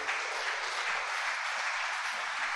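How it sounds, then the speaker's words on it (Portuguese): A church congregation applauds at a service, a continuous dense wash of clapping that holds steady and fairly close throughout. "Dê um forte aplauso ao Senhor."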